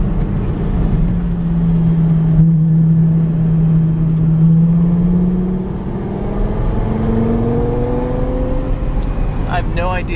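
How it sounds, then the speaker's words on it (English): A Lexus LFA sports car engine rumbles powerfully and steadily, its low tone rising in pitch as it revs and accelerates, loud and close throughout. "Just the sound of the engine, it's like you want to just bottle that up."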